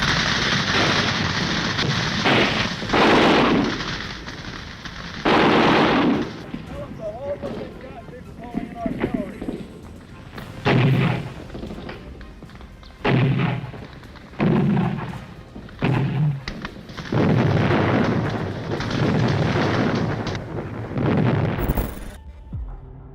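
Battle sounds from a jungle roadside ambush on American vehicles: repeated heavy booms and bursts of gunfire and machine-gun fire in clustered blasts, with loud explosions and a voice narrating over much of it.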